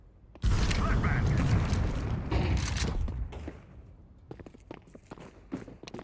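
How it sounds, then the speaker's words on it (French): A flashbang grenade thrown during a ranked Counter-Strike match: a loud, broad burst at the start that holds for a few seconds and then fades into clicks, footsteps and scattered game noise. "Throwing a flashbang."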